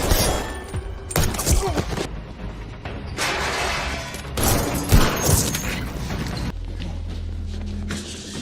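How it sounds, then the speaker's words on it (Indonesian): A burst of film-shootout gunfire with booms, shattering impacts and thuds. The sound is dense, loud and continuous, layered with music and effects across the whole stretch. "terjadi baku tembak di sana"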